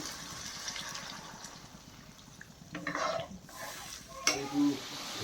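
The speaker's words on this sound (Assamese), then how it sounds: "এতিয়া পানী দিওঁ। এই পানী দিছোঁ।" Water is poured into a hot pan of frying spices for a paneer dish, giving a burst of hissing sizzle and bubbling, followed by stirring, close by.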